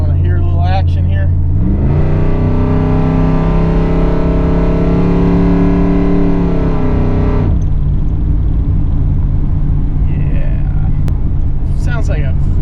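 A Chevrolet Camaro Z28 engine with added fueling, loud and close: a deep rumbling idle that rises into a sustained rev for several seconds, then drops back to a throaty idle.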